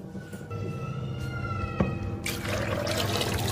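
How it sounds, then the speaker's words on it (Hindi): Water poured from a mug into a pot of chickpea curry, a steady close splashing and gurgling pour that grows fuller and louder midway, with no talk. "तो अब इसमें हम पानी डालेंगे"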